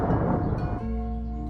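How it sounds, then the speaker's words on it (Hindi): Thunder rolls across the sky as a sound effect in a Hindi animated cartoon. A loud, dense, continuous rumble fills the short moment and then settles into a tonal drone, with no talk. "अचानक आसमान गड़गड़ाने लगता है।"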